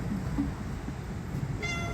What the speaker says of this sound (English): You can hear him meow.